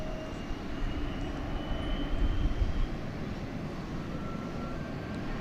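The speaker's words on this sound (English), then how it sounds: "American Eagle Flight 3693 going to Bentonville, Arkansas, the home of Walmart." An American Eagle airliner at DFW Airport, heading south on runway 18, gives off a steady, moderate engine rumble that swells slightly around the middle and then holds at an even level, heard from some distance.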